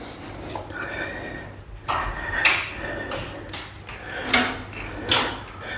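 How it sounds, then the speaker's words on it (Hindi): A door is pushed open indoors with a few scraping, clattering knocks and creaks spread over several seconds, fairly close and loud against a quiet room hum. "ये दरवाज़ा खुल गया"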